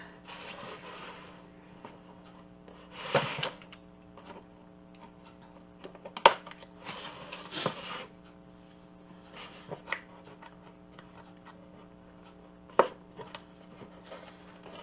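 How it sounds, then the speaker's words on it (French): Sparse scissor snips with brief crisp bursts of cutting, several spaced seconds apart over a steady low hum, close and fairly quiet. "je pense que je vais essayer avec les ciseaux"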